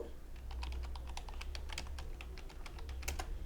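Typing on a computer keyboard: a quick, uneven run of sharp key clicks, close and continuous, over a low steady hum.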